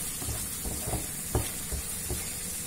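Cauliflower is stirred into tomato sauce in a hot pan. The close sizzle is soft and steady, and a few scraping stirs and small knocks rise above it with no talking.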